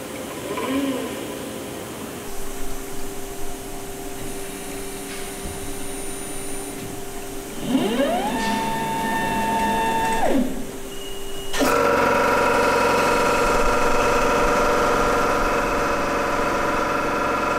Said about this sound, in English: I'll just show you like the dry run that we do, how the nozzle will move